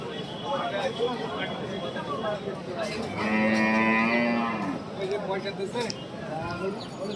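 A cow gives a long, loud moo at a busy Bangladeshi cattle market, rising over a steady crowd murmur while someone talks nearby.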